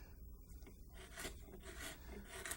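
Scraping and rasping of a number 7 gouge hollowing the underside of a carved wooden osprey wing, with repeated short rough strokes close by and a steady low background hum.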